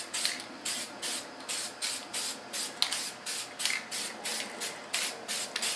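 Short bursts of sealant spray hit a water clay mould for a prosthetic, a rapid even series of close hissing puffs with brief gaps between each.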